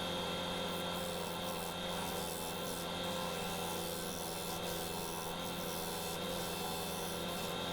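A wood lathe turning a bog oak bowl remounted on a faceplate and running out of balance gives a steady, continuous whirring hum with a rough scraping rasp throughout, close and sustained without pauses.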